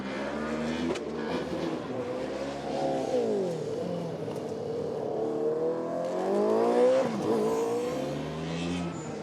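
A Formula Student race car from Aberdeen laps the circuit, its engine revving up and down through gear changes with rising and falling pitch, close and loud with brief tire noise.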